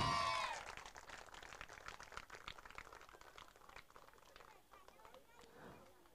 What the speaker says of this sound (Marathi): चला जोरदार टाळ्या झाल्या पाहिजेत.